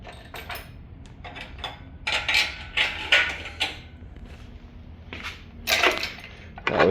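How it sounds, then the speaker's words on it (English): An engine hoist being pulled away from an LS engine on a DIY run stand, heard as a series of close metallic clanks, scrapes and rattles in short bursts with no talk. "let's go ahead and pull off our engine hoist"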